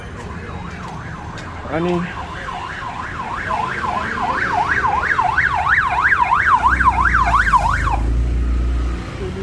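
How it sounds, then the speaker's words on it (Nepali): An emergency vehicle siren wails on a busy street in the New Road and Basantapur area, rising and falling rapidly and loud and close for several seconds over traffic noise, with a brief spoken word. "साइरन लगाएर हिँड्छ"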